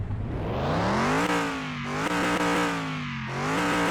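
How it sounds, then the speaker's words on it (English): Steady V8 engine idle in Car Mechanic Simulator 2021, from a restored Delray Winchester modeled on a Buick Riviera, giving a loud, continuous low grumble with slight pitch wavers and small blips of throttle. "It is your pretty standard V8 engine. Nothing overly special with this one, although it does have a nice idle grumble."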